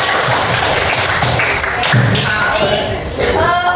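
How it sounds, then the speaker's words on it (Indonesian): Students in a fiqh (Islamic jurisprudence) classroom applaud a presenting group, a dense, steady wash of clapping mixed with lively chatter throughout. "Kasih tepuk tangan untuk kelompoknya."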